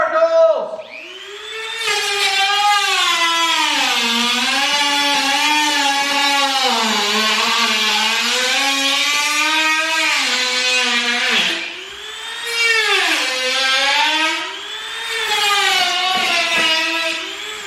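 Dremel rotary tool cutting a pet cage accessory, a loud high whine with swooping pitch that sags and recovers as it bites, pausing briefly near the end before starting again.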